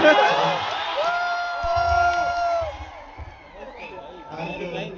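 A crowd shouts and whoops at a campus cricket event at LPU, loud rising cheers and yells filling the space, with people talking over and between the noise.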